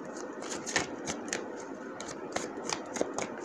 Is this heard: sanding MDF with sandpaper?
no